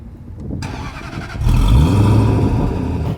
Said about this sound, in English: This engine sound, I don't like it.